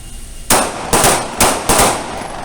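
Pistol shots fired at a police firearms training range, four loud sharp reports spaced about half a second apart, each with a brief echoing tail, no voices.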